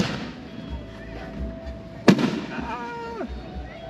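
Fireworks at an evening car show, a sharp loud bang bursting over a murmuring outdoor crowd, with distant car sounds and a falling tone trailing afterward.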